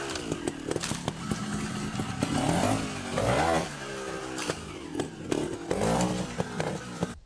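Dirt bike engine revving hard as the clutch is popped for a wheelie on a muddy track, a loud, close, buzzing roar that rises and falls in several surges.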